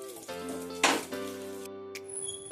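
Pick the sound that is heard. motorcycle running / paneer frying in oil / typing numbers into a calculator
paneer frying in oil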